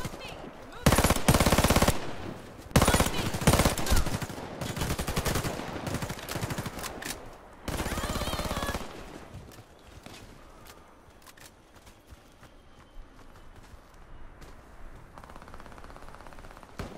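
Automatic weapon fire in the shooter Warface, several loud close bursts in the first half, then quieter distant shots and faint game noise.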